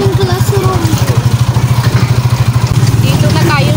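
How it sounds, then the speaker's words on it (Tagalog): A motorcycle engine runs up close with a steady, rapid pulsing putter, loud throughout as it is brought toward a school, while a person talks over it. "ipapasok na lang namin guys ang motor sa loob"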